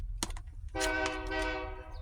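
Train horns sound in the distance behind faint outdoor ambience, a long sustained blast after brief short toots, as a couple of engines meet on nearby tracks around midday.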